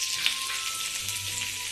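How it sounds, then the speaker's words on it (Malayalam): Onion and green chilli sauté in hot oil in a pan, a brief, steady, close sizzle with a faint stirring scrape and no voices. "ഇനി അതിലേക്ക് ഈ സവാളി പച്ചമുളകും കൂടി ഒന്ന് വഴറ്റിയെടുക്കാം"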